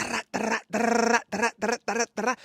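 A person vocally imitates the call of a grey squirrel, a series of eight short, nasal, whiny yelps in quick rhythm, close and clear with nothing else audible.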